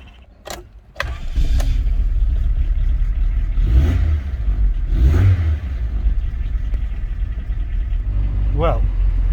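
A car engine with a lit check-engine light turns over and catches, then idles with an uneven, lumpy running note; a couple of surges rise and fall, with clicks near the start.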